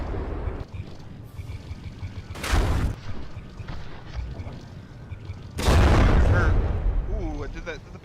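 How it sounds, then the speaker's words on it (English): Secondary guns fire explosive shells during a naval battle in the From The Depths video game. Two loud, booming blasts come a few seconds apart over a low, rumbling background. "The main gun's missing, but the secondaries are landing some hits."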